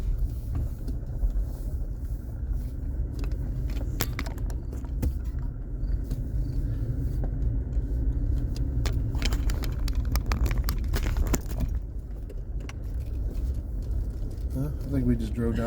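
A car rolls along a forest road in a national forest, with a steady close engine and road rumble, tyre crunches and knocks over the uneven surface, and people talking inside the vehicle.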